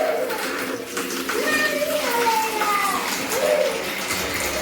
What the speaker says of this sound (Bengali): গিজার চলছে, জল গরম আছে